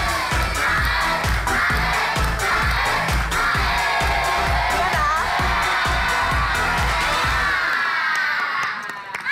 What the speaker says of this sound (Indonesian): tepuk tangan dong untuk Rambu